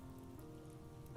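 Rain falls softly and steadily on a surface during a storm, a faint, even patter that continues unbroken for a moment before a brief sharp tick at the end.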